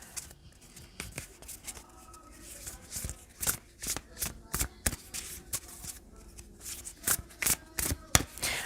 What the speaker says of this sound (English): I'm just thinking about this as I shuffle this new solutions and beginnings